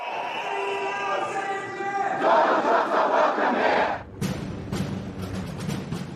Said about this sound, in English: The streets were lined mostly with people protesting his visit.